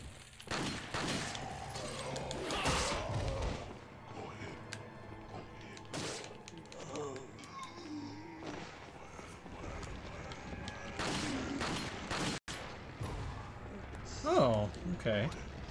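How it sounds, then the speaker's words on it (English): Gunfire from a gun in Resident Evil 4, scattered sharp shots and thuds spread across the stretch, loud in bursts, with someone talking between and over the shots. "This gun is so accurate and strong."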